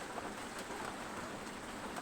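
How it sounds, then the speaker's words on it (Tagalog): Rain falls steadily in a soft, even hiss of continuous drops, fairly faint and with no voices. "pag hindi titigil ang ulan guys"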